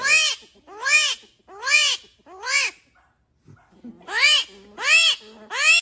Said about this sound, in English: This is an armadillo. This is how it sounds.